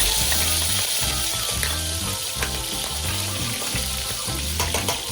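Green onion goes into a pot of browned, sizzling meat while cooking homemade ramen broth, producing a loud, steady crackling sizzle with brief clatters from stirring.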